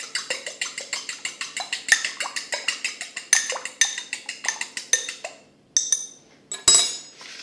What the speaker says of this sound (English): Whisk it up together.